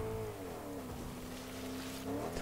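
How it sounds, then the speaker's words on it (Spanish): A car approaches in the video game Fortnite, a steady engine drone holding a sustained tone that dips slightly and rises again near the end, moderately loud and continuous without speech. "viene alguien con un coche"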